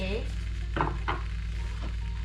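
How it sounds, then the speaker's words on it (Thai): Pork and mushrooms in oyster sauce starting to boil in a ceramic pan: a close, soft sizzle with a couple of brief stirring scrapes over a steady low hum. "เริ่มเดือดละ"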